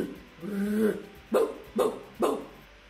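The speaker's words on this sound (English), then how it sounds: "Yes, it is a dog." A dog gives a low whining growl, then three sharp, short barks in quick succession, close and fairly loud.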